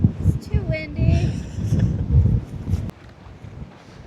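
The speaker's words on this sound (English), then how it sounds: "It's too windy." Wind buffets the microphone in a steady low rumble on a Pacific Crest Trail hike near Tehachapi, with bursts of gusting noise that ease off partway through.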